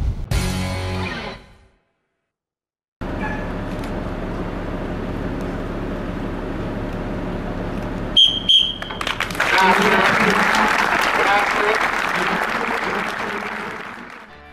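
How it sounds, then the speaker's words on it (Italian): Applause breaks out after a moment of silence at a cycling tribute, first a brief noise, then near-silence, then a steady crowd clapping that swells louder with some whistles and cheers and carries on to the end. "Il silenzio e poi l'applauso."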